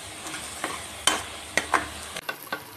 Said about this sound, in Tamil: இந்த ஸ்டேஜில் நம்ம அரைச்சி வச்ச பேஸ்ட்டை ஆட் பண்ணி நல்லா வதக்கி எடுத்துக்கலாம்.